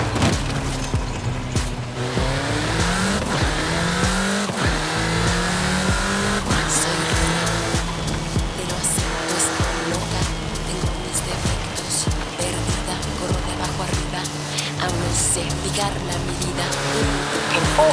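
A car engine in the video game Forza Horizon 5 accelerates steadily, its pitch rising through gear shifts with occasional tire squeal, loud and sustained throughout.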